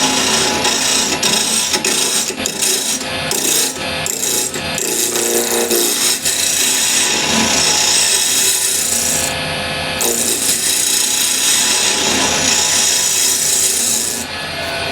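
Walnut burl spinning on a lathe while a square scraper flattens it to diameter, giving a loud, continuous rasping scrape with brief choppy bursts early on, then steady abrasive cutting noise with no talk.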